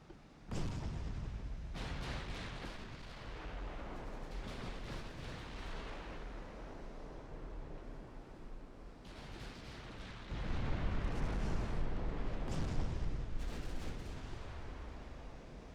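Heavy torpedo impacts on warships in a 1930s Ottoman naval battle off Algeria, heard as a sustained, loud roar of rumbling blasts that swell again toward the end, with no voices.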